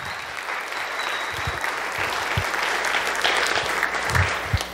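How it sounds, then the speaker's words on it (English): A standing audience applauds two new Eagle Scouts at a troop court of honor ceremony, a steady wash of clapping with a few louder individual claps and occasional thumps throughout. "Maybe one more round of applause for these two remarkable young men."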